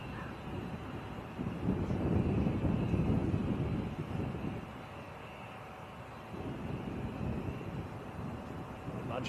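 A Saxon Air aircraft at Manchester Airport gives a broad, rumbling engine roar that swells, eases, then rises again with some wind buffeting. It sounds moderately distant, and a voice talks faintly over it.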